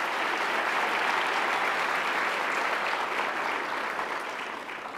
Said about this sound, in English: So one more round of applause for Comcast